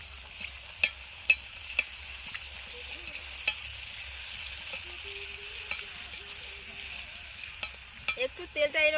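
Fuchka puris puff up as they fry in hot oil, giving a steady soft sizzle with scattered pops and crackles, and a brief clatter near the end.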